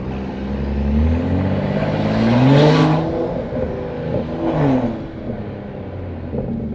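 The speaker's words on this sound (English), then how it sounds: "I think this exhaust is just so loud you can't really hear anything over it" A loud BMW 435i exhaust revs up and falls back twice, deep rumbling and roaring close by with no voices.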